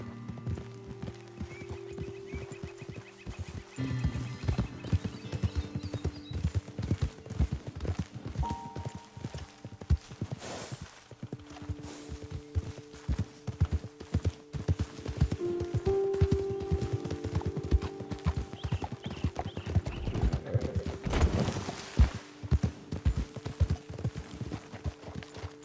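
Horses ridden in Red Dead Redemption 2, with steady rhythmic hoofbeats clip-clopping throughout, occasional snorts and a whinny, over a faint tonal game music bed and no talk.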